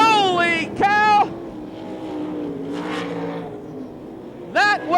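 Sprint race cars roaring past at the Knoxville Nationals dirt track in 1997, engines rising and falling in pitch as they sweep by, an announcer talking excitedly over the howl.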